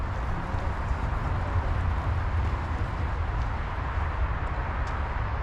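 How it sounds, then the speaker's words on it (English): Steady traffic rumbles in the background of an urban park on a winter nature hike, a continuous low roar of passing vehicles with no distinct events standing out. "So you can hear the traffic in the background"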